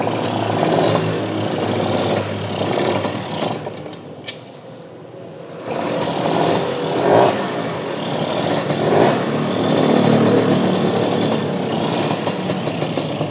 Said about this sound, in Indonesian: Kita ngegas lagi.